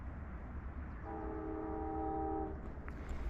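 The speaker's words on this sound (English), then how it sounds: "You can hear the train coming in." A train horn sounds in one long sustained blast in the Alaskan wilderness, fairly distant, rising over a steady rumbling outdoor background, with a faint click near the end.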